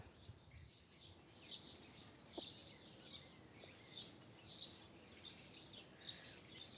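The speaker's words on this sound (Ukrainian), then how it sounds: "Зараз так гарно співають пташки. Дуже-дуже дзвінко." Birds sing in a garden in the morning, with faint, bright chirps recurring every second or so over a quiet background.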